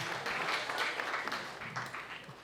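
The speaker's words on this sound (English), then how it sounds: "big round of applause for John back there" A small theater audience at a Houston storytelling show claps for the lighting and sound technician, a fairly faint, short burst of applause that swells and then tapers off toward the end.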